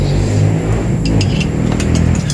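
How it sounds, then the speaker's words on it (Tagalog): A motorcycle engine passing on a roadside highway, a loud, close, steady mid-pitched motor drone that rises slightly as it goes by. "Narinig niyo po yung motor kasi dito kami malapit sa may tabing daanan."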